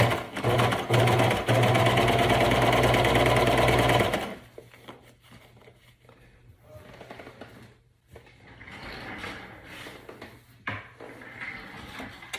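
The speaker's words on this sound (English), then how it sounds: "I'm gonna reverse cover stitch that pocket onto the front." A cover stitch sewing machine runs fast and loud, stitching a pocket onto the front of flare leggings, then stops; quiet handling sounds and soft talk follow.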